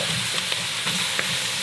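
A roux for gumbo is stirred in a pot, a continuous close sizzle broken by soft periodic scraping strokes of the spoon at a steady rhythm, with no voices.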